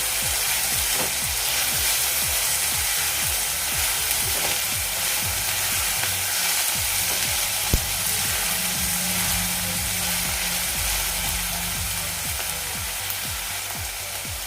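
Chopped onion with salt sizzles steadily in a hot pan for an Agri-style dry bombil dish, a loud, dense, unbroken hiss and crackle close by with no talking.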